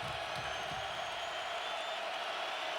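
A college football stadium crowd roars on a third down during a Wisconsin versus Ohio State game, a steady wash of distant cheering that holds at an even level throughout.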